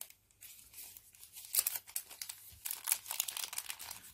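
A bag crinkles and rustles as it is handled and carefully opened while unpacking a parcel, with close, irregular crackling bursts.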